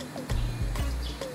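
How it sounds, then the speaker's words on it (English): Birds calling in the morning, a few short chirps and cooing notes spaced apart over steady background hum, moderately close. "The bird sounds."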